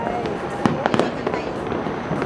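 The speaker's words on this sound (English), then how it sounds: "We could see the fireworks from like all over Manila." New Year fireworks burst over Manila in the Philippines, a string of sharp pops and crackling bangs at middle distance over a constant festive crowd wash.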